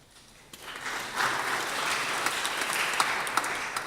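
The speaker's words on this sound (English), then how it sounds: "There's time for applause, by the way." Sustained audience applause following a poster spotlight talk at a biometrics conference, steady dense clapping from a seated crowd that swells after a quieter opening half-second and holds evenly to the end.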